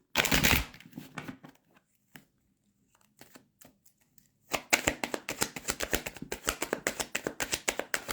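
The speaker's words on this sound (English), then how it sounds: "I just shuffled and the same card comes out." Tarot cards are shuffled close by: a loud riffle opens, then scattered soft taps and a quiet gap, followed by a long run of quick, rhythmic card flicks and slaps.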